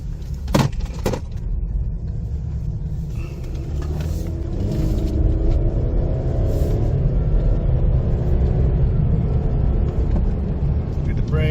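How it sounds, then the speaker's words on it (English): A 2020 Ford Explorer drives and swings through a U-turn, its engine and road noise holding a steady low rumble that grows fuller as it turns, with someone talking over it at the start. "We're gonna make a U-turn. This thing makes awesome U-turns."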